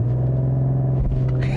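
A 2021 BMW M440i xDrive engine holds a steady, loud, droning tone under launch control, then the sound shifts and rises sharply in its last half second as the car pulls away.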